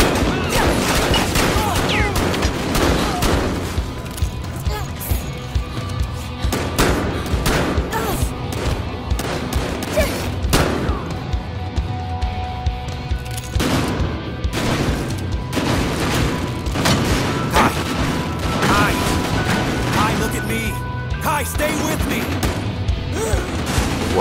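Sustained gunfire pours into a house during a firefight in Battlefield Hardline, dense bursts and sharp cracks stacking up over about twenty-four seconds with occasional crashes, loud and continuous, voices mixed faintly underneath.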